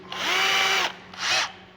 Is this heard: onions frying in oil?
no